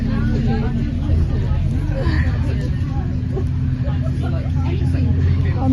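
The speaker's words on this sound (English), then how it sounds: "On the bus, on the way to the train station." Steady low engine drone and road rumble inside a moving bus on the way to a train station, continuous and close, with faint murmuring voices in the background.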